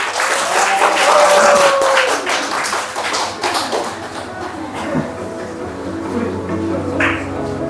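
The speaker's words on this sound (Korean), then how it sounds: "박수." A church congregation applauds during a Sunday afternoon gospel service, loud clapping at first that thins into scattered claps, with a few voices faintly audible.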